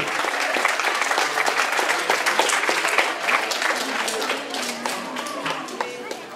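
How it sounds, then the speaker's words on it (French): Sustained applause from an audience at a poetry evening, dense clapping filling the whole stretch at a steady, loud level. "On l'applaudit jusqu'à temps qu'elle soit sur le"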